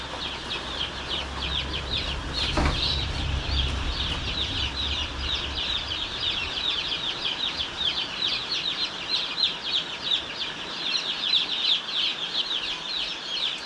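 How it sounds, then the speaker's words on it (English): Newly hatched, unvaccinated Ross 308 broiler chicks in a box, a constant chorus of rapid high cheeping from many birds, fairly close, with a brief thump early on and no talk. "These little guys are Ross 308s"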